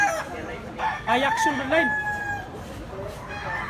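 A blue-legged gamecock about 18 months old crows on a farm in Consolacion, Cebu, giving one drawn-out call with rising and falling pitch, close and fairly loud, with a voice speaking around it.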